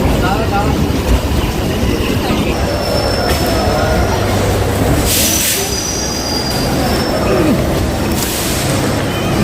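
A Howrah to Sealdah local train rolls into Sealdah station with loud, sustained metallic wheel squeal over rumbling carriages and rail noise, while voices murmur faintly underneath.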